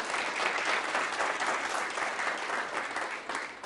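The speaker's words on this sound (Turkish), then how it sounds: "bir alkış istiyorum" Steady studio audience applause on a Turkish television show, continuous even clapping from start to end, moderately distant.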